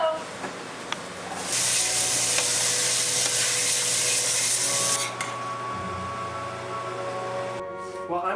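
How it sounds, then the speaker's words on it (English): Onions and carrots hit hot oil and sauté in a pan, setting off a loud, steady close-up sizzle that hisses for several seconds, then drops away near the end, with a low hum underneath. "so I'm going to cut up the onions and the carrots so we can saute them in the oil as well."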